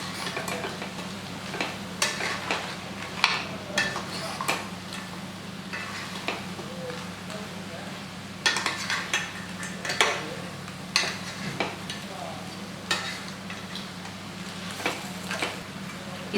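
Crab pieces sautéing in oil with turmeric, a soft sizzle under frequent sharp scrapes and clinks of a utensil against the pan, close by, with a steady low hum in the background and no talking.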